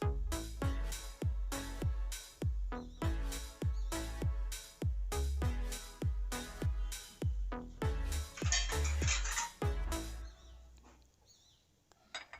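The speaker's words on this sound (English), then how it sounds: "Let me bring the bigger bowl first." Repeated sharp clinks and knocks of kitchen bowls and utensils while mashed potato for pani puri aloo masala is moved into a bigger bowl, a steady series of close, resonant strikes over about ten seconds before fading.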